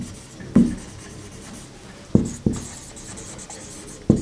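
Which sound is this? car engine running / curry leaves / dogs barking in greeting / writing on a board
writing on a board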